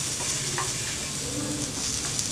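Cucumber pieces roasting in a pan give a steady, close sizzle as they are flipped, with faint scraping over the continuous frying noise.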